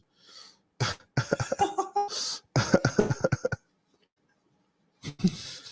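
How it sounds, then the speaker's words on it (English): A burst of harsh, repeated coughs comes close to the mic, a rapid series, then silence before a short final rasp. "It's a COVID cough."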